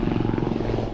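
Military helicopter gunships during a multinational beach assault exercise with Australian, American, British and Japanese troops at Kings Beach near Bowen, giving a steady, loud, close rotor drone with a rapid pulsing beat throughout.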